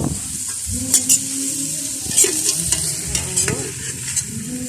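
Carrots frying in a hot pan while being stirred: a steady close sizzle with repeated scraping strokes of the utensil, and no voices.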